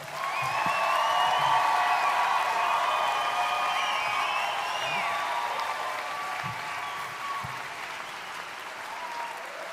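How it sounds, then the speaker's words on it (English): An audience applauds graduates at the Folsom Lake College commencement ceremony: steady, dense clapping with faint whoops and cheers, holding loud throughout and tapering only slightly toward the end. "Please join me in giving our graduates another round of applause."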